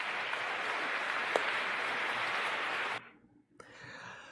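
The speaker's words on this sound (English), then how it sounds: "round of applause for that one" A talk-show audience breaks into steady, dense applause for about three seconds, then it cuts off abruptly, leaving faint room noise.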